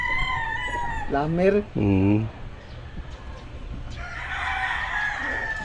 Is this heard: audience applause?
no